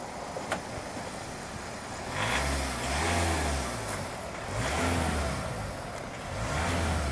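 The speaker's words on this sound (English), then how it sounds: "Rev it up some." A car engine with a suspected steaming head gasket is revved in repeated swells, its rising and falling engine tone heard up close, with a quieter idle between the pushes.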